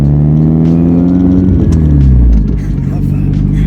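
Nissan Pulsar GTiR four-cylinder engine revving loudly up close, rising in pitch and then dropping away as the revs fall back, with a rumbling idle at the end.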